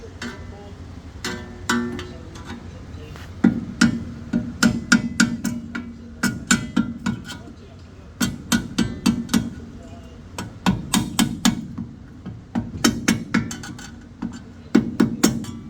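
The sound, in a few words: hammering a metal tab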